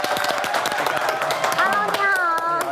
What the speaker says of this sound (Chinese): 我们用热烈掌声欢迎二文